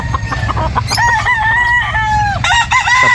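A black Maclean cross SBR gamefowl rooster crows loudly and close by on a Batangas farm, giving two drawn-out crows over a low background murmur.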